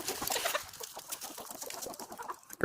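Chickens cluck softly in a scattered, continuous chatter, several birds murmuring at once with no talking.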